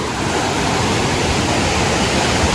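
Small river in the Konkan countryside rushing past, a steady close wash of flowing water filling the whole stretch without a break and no voices.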